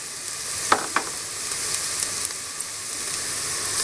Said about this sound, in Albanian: Shtojmë dhe qepët, pasi ka urdisim qepën, sa të marrë një zverdhje të lehtë